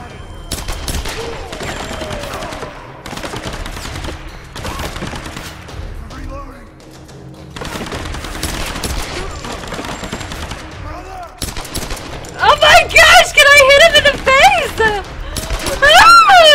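Gunfire in the Tomb Raider video game comes in repeated bursts of sharp shots separated by brief lulls, with other game effects rising loudly toward the end.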